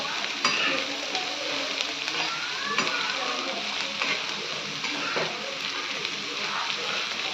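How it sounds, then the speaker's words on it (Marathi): Green chillies, onion and garlic sizzle in a spoonful of oil on a griddle, a steady dense crackle with occasional scraping stirs throughout. "मिरच्या आणि कांदा, लसूण हे मी तव्यामध्ये टाकून घेतलेलं आहे. त्याच्यात 1 चमचा तेल टाकले."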